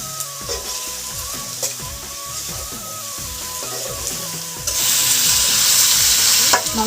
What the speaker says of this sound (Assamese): মাংসখিনি মই এতিয়া ভাজি আছোঁ